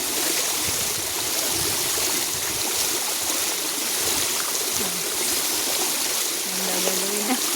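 Water pours steadily in a continuous, splashing rush from a small garden waterfall nearby, with faint background sounds mixed in.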